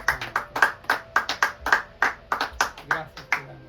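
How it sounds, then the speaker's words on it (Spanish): A church congregation claps together in a rapid, uneven rhythm of sharp hand strikes, loud and close, with no voices over it. "démosle un aplauso al Padre, al Hijo y al Espíritu Santo"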